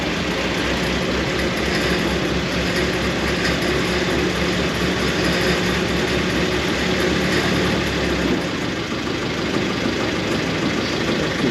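A vintage Austin 7 car engine starts and runs close by, a loud steady idle with a rhythmic low pulse that shifts near the end, no talk.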